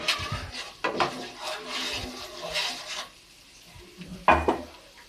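Thick masala paste frying in oil with a spoon scraping and stirring it in a pan, giving bursts of sizzle and metal-on-pan clatter that swell and fade, with a sharp loud scrape near the end.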